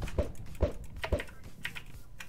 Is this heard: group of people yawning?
no